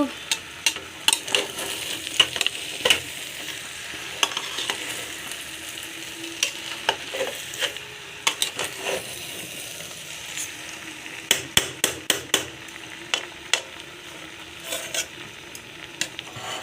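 Chicken pulao ingredients being stir-fried in a pan, with a steady low sizzle under repeated sharp scrapes and clinks of a spoon against metal, irregular and close, with no talking.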